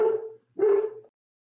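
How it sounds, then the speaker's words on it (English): A dog barks twice in separated, moderately loud bursts indoors, with no talking around them. "My dog is barking."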